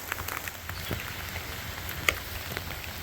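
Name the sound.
rain falling outside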